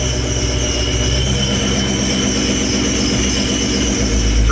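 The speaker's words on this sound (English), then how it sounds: "So right now it's kind of idling up and down. You can hear it" A supercharged Ford Mustang engine idles with a steady, loud mechanical roar and a thin high whine over it, the low rumble swelling slightly toward the end. No one speaks.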